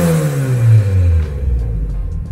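A Mitsubishi Lancer Evolution 8 MR making about 499 wheel horsepower revs hard at full throttle, a loud, close engine note that climbs and then drops into a rumbling shift.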